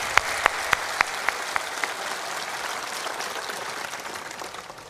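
Sustained applause from an audience at a motivational spiritual talk, dense and steady for the whole stretch, with a few sharp, loud individual claps standing out near the start.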